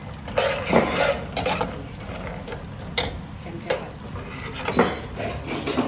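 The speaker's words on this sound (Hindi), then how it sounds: "काजू जो है ना ये फ्राई करने लगे।" Cashews frying in a pan with oil, giving a steady crackling sizzle under repeated scrapes and clinks of a utensil stirring against the metal.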